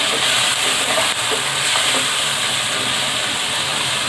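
Spices and softened tomatoes are stirred in a hot pan for keema aloo, with a continuous sizzle and hiss of frying and faint scraping of the stirring underneath.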